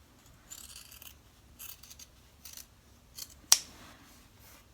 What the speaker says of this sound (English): I'm just going to cut some of this off.